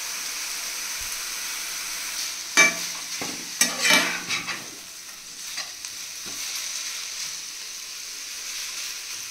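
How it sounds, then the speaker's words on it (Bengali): Steady sizzling hiss of mushrooms frying in a pan, with a brief burst of scraping and clatter from stirring partway through. "এখানে মাশরুমটা ভাজা হচ্ছে"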